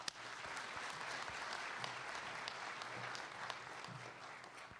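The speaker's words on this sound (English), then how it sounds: "Give him a big round of applause to Stephen" A big round of applause from the audience at a JFK Library immigration ceremony, soft and distant with steady, dense clapping and a few sharper individual claps standing out.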